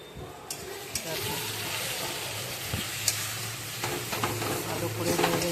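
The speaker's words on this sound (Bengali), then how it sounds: "মশলাটাকে কষতে হবে ভালো করে" Ground spice masala for a fish curry is stirred and fried in a pan, giving a continuous close sizzle broken by scraping stirs and a few sharp clinks of the spoon.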